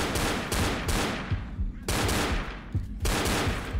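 An assault shotgun fires repeatedly in Left 4 Dead, several loud close blasts in quick succession with short decaying tails and small gaps between shots.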